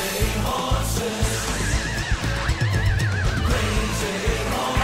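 A horse whinny effect rises over the loud band and vocals of a song, a wavering neigh riding on top of the driving music.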